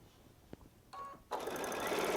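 A Baby Lock Solaris sewing machine chain piecing quilt blocks with a 1/4" piecing foot starts up after a couple of faint clicks, then runs in a steady, fairly loud whirring stitch with no talk.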